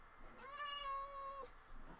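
A cat meows once in the video game Minecraft, a clear, drawn-out tonal mew lasting about a second, fairly faint against a quiet background.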